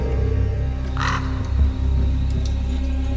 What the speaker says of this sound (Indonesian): Kok burung gagak itu lagi?